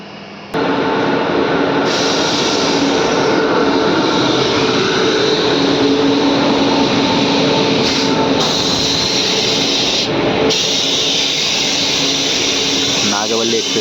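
Tirumala Express on the Guntakal–Visakhapatnam route pulling into Kovvur station, heard from inside the coach as a steady, loud, continuous rumble and hiss of the running train.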